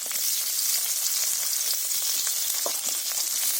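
Onion and green chillies sizzling in oil in a pan, a steady dense crackling hiss that runs throughout with small pops and the faint scrape of stirring, close and alone without any voices.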